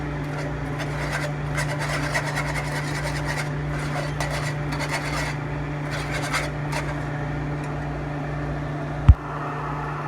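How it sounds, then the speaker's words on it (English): Ground beef cooking in a pan while being stirred, a continuous close scraping and rubbing of the utensil over the meat above a steady low hum, ending with a single sharp knock. "Make sure you get a nice cook on all sides of this ground beef. Here, stir it up."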